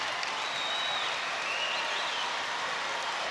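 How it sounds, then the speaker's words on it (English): Sustained applause and cheering from a basketball crowd at an NBL game between the NZ Breakers and Perth Wildcats, a steady, even wash of clapping and voices filling the arena without pause. "The crowd's loving it, not as vocal as they were a couple of minutes ago"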